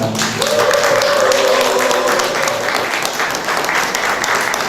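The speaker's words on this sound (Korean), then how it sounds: "두 분께 큰 박수 부탁드리겠습니다." Loud, dense audience applause at a policy agreement signing ceremony in Suncheon, steady throughout, with a brief voice near the start.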